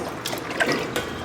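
Chana dal lentils tipped into a bowl of wheat soaking in water, giving a short splashing, dribbling pour of grains and liquid, close and moderately loud, with no talking.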